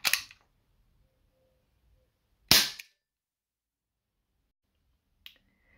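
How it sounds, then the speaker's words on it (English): Three sharp cracks from a Colt Python 6 inch airsoft revolver: two loud snappy reports a few seconds apart, then a fainter third click, each alone in silence. "That is one powerful airsoft gun."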